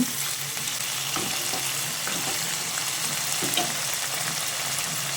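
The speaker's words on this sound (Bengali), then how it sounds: "সয়াবিনগুলো দিয়ে সব কিছুকে একসঙ্গে ভালো করে নেড়ে চেড়ে মিশিয়ে নিতে হবে।" Fried soybeans being stirred into a curry in a pan, a constant sizzle under repeated soft scraping strokes of a spatula, close by, with no talking.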